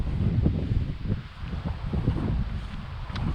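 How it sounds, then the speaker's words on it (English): Wind gusts outdoors buffet the microphone with a steady low rumble and faint rustling, as branches blow in a breezy open field. "looking at those branches blowing, it's a bit windy there"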